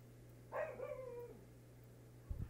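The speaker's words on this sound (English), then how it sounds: "And now my dog is barking." A dog lets out one faint, drawn-out whining yelp that falls in pitch from somewhere off to the side, over a low steady hum.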